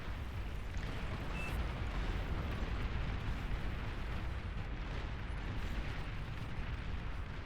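In the strategy video game Beyond All Reason, an advanced geothermal structure is destroyed amid a continuous dense roar of explosions and artillery fire, loud and sustained throughout, with no voices.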